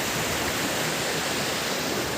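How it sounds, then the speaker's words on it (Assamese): Karbi Langpi river water rushes steadily in a continuous broadband roar, heard from close by with no pauses or voices. "এয়াই হৈছে কালবিলাংকুৰি নদী"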